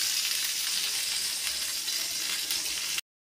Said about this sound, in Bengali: মাছগুলো ভাজি চলছে সুন্দরভাবে, স্মুথলি মাছ ভাজি চলছে